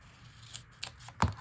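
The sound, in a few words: scissors cutting a strip in half for notebook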